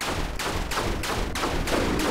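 Robot spiders in a Spider-Man game fire rapid bursts, about six loud, evenly spaced blasts in quick succession, each one broad and crackling.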